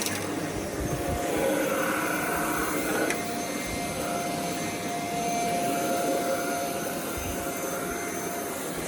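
A Shark cordless vacuum cleaner runs on carpet with a loud, steady motor whine and airy rush, holding nearly constant for several seconds with a slight shift in tone partway through.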